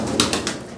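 A pigeon gives short, soft coos, two or three quick pulses close by, against a low background hum.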